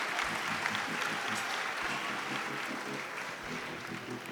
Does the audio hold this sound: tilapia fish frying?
no